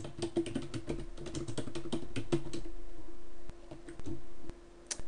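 Typing on a computer keyboard: a rapid, close run of key clicks for a few seconds, then a couple of isolated taps over a steady background hum.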